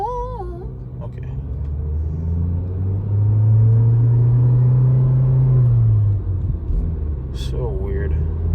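A Nissan car accelerating from a green light, its engine rising to a loud, steady droning rumble that swells and then eases off, with a person talking over it at the start and end.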